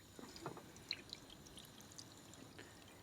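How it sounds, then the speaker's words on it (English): Marinade poured into a pan of chicken pieces for a French peasant-style dish, giving a soft, intermittent liquid splash and drip, faint and close with small clinks. "so we'll pour in the marinade"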